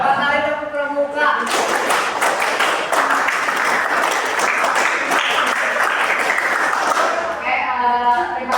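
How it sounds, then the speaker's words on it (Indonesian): An audience performs a Scout clap (tepuk pramuka) at a Pramuka group presentation, a dense burst of rhythmic clapping lasting several seconds, with a voice talking just before and after. "Barangkali tepuk pramuka"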